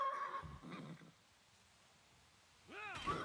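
A horse in the video game Wartales gives a faint neigh, a short whinny near the start and another at the end, with a quiet pause in between.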